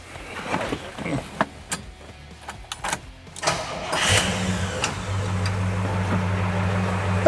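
A classic Chevy Malibu with quad headlights cranks and starts, a few sharp clicks and bursts giving way to a steady, close engine idle with a low droning hum that runs alone to the end.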